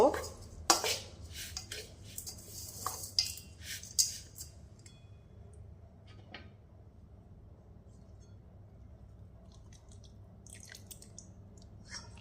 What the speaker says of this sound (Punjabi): ਇਹਨੂੰ ਚੰਗੀ ਤਰ੍ਹਾਂ ਆਪਾਂ ਮਿਕਸ ਕਰ ਲਾਂਗੇ